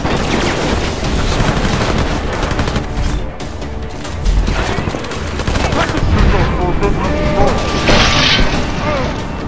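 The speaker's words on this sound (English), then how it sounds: "Now that we've fully engaged combat, we will show some of Adam's augmentations" Dense gunfire and mechanical clatter fill combat in the video game Deus Ex: Mankind Divided, loud rapid bursts and booms with someone talking underneath.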